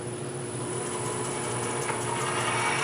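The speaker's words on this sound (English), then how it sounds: "I'm just going to drill down to that mark to create a hole" Drill boring a hole into a wood blank mounted on a lathe, a steady continuous whirring hum with grinding texture, close and constant throughout.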